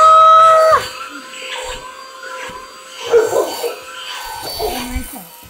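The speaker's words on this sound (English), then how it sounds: "Vacuum on the diamond thing." A small handheld vacuum for diamond art runs with a steady whirring drone, close and fairly loud, its pitch wavering as it is moved across the diamond canvas.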